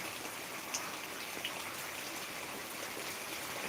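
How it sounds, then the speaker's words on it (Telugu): Steady heavy rain falling during a storm over a village, a dense even wash of drops with a couple of brighter individual drips, at moderate distance and no voices. "భారీ వర్షం కురుస్తుంది"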